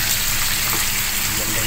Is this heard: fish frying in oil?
yes